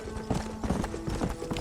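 Horse hooves in the Red Dead Redemption video game, a quick run of clip-clopping galloping beats over a busy background mix, close and moderately loud.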